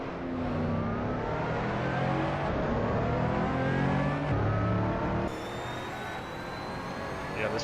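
A car engine revs and pulls hard in a racing video game driven with a wheel and no assists, a loud, close, continuous drone whose pitch climbs and shifts through gear changes, with no talk.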